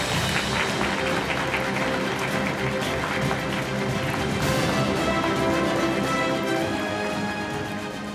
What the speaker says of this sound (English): So please give them a warm welcome and a warm applause.